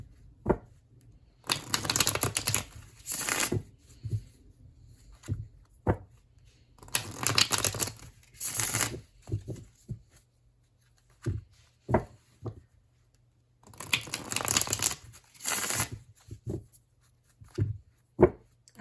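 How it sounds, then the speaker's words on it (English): Three bursts of riffle-style tarot card shuffling, each a few seconds long, separated by quiet gaps with soft taps and card handling sounds. "I love the way this deck shuffles."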